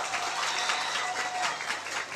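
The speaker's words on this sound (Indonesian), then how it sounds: "Tepuk tangan untuk santri semuanya." A crowd at an Islamic lecture applauds the santri, a dense, moderately loud patter of many hands clapping together, steady throughout the short stretch with no talk.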